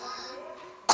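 A young child gives one short, sharp cough at the very end, after faint low murmuring, while waiting at a medical clinic.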